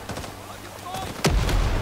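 Gunfire rings out in a Vietnam War shooter video game, with a few faint shots followed by one loud, booming blast near the end.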